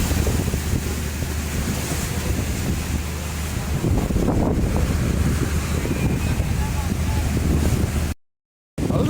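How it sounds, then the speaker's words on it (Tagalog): Strong wind roars steadily across the microphone on a boat at sea off Davao Oriental during a habagat monsoon, mixed with wave wash, with a voice faintly present and a brief dropout at the end. "Pero ang lakas po ng hangin ay ganun pa rin."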